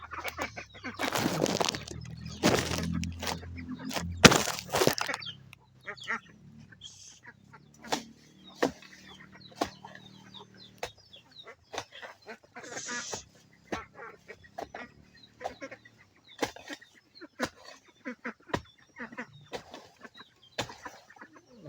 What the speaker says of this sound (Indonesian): Ini bebek-bebek ini di sini sekali.